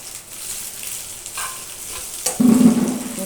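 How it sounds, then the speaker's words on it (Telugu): Cooked rice and salt stirred in a hot pan for jeera rice, with soft scraping and a faint sizzle, then a louder close burst of stirring toward the end; no one talks. "అంతా కలిసేలాగా మిక్స్ చేసుకోవాలన్నమాట."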